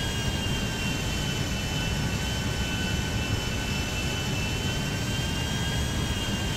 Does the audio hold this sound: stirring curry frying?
no